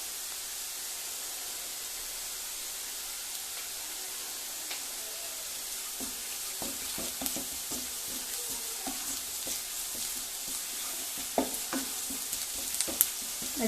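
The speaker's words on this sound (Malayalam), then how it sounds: "സവോള നന്നായിട്ട് വഴന്ന് വന്നിട്ടുണ്ട്. ഇനിയിപ്പം നമുക്കിതിലേക്ക് ആദ്യം ഒരല്പം മഞ്ഞൾപ്പൊടി ഇട്ട് കൊടുക്കാം." Sautéed onions with turmeric frying in a pan, a continuous sizzle broken by scraping stirs that grow busier and louder toward the end, with no voices.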